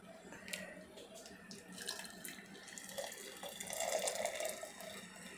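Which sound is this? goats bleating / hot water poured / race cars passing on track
hot water poured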